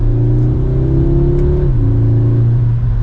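A 2023 Audi S3 Premium Plus turbo four-cylinder pulls hard in third gear, its exhaust holding a steady, loud drone that rises in pitch, dips briefly at a shift-like step, then climbs again, close and unbroken with no talk.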